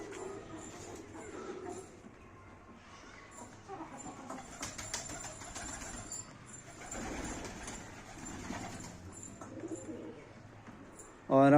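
Pigeons coo softly while feeding outdoors amid a busy background, with faint voices murmuring nearby.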